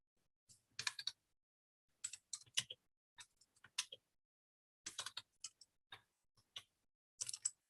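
Typing on a computer keyboard in a quiet room, crisp clicky keystrokes arriving in short irregular clusters separated by silent pauses, close and clear with no talk.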